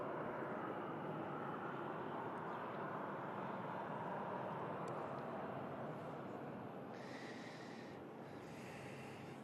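EasyJet airliner at Manchester Airport, a steady broad jet engine roar filling the whole stretch at an even level, with a faint higher whine toward the end and no talking.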